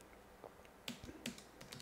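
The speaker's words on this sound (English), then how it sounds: "my typing is horrible" Someone types on a computer keyboard in a home studio, producing a few sparse, quiet key clicks with two slightly sharper taps, close and alone without any talk.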